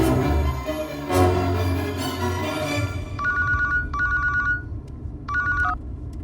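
A telephone rings in an indoor movie scene, sounding three short electronic ring bursts after some muffled background noise.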